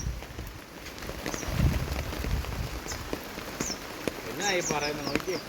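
Steady rain falls outdoors, a soft continuous patter with occasional drips, while birds chirp faintly in the background and a voice murmurs briefly.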